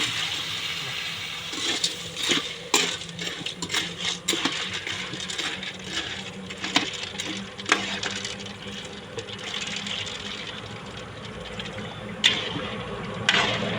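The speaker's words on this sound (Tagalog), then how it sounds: "Lagyan po niya ng tubig." Water poured into a cooking pot while making macaroni soup at home, a steady splashing fill with clinks and knocks of utensils and the pot rising above it, heard close up.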